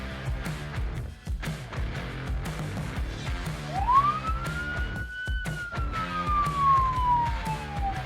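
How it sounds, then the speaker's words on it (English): A police car siren wails in pursuit of a white Toyota Corolla, sweeping up sharply midway and then sliding slowly downward, loud over a backdrop of rhythmic music. "there was a police car right behind Venkat. The officer sped after the Toyota driver"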